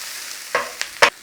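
Red wine stirred into a one-pan lentil bolognese: three short scraping, sizzling stir strokes, close and fairly loud, over a faint background hiss.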